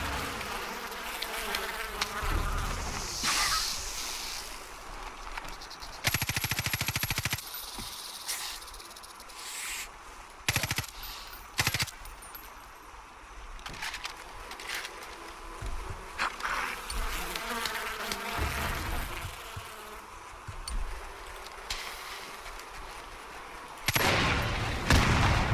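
Bees buzz loudly in the Far Cry 5 video game, a dense insect drone that runs nearly throughout, broken by sharp bursts that sound like gunfire scattered across it.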